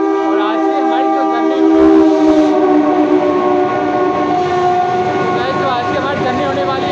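Indian Railways Saharsa-Amritsar Garib Rath superfast express at a station, its horn sounding loud and near in a long sustained blast over a low rumble, with a brief swell midway.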